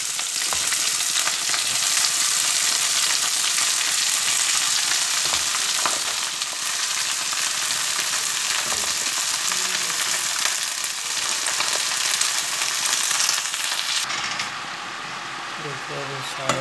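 Chopped onion added to potatoes already frying in a pan, a loud, steady sizzle with scattered stirring scrapes that runs nearly the whole time, easing slightly near the end.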